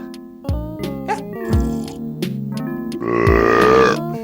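A series of loud, drawn-out burps, several short ones and then a long, rumbling belch near the end.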